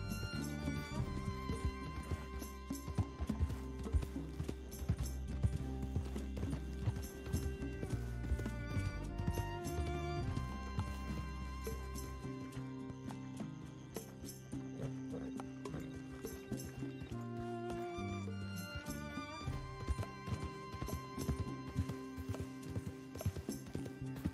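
Horse hooves clip-clop steadily through Red Dead Redemption 2, with a neigh or whinny near the start, all set over a continuous, full musical score that runs the whole time.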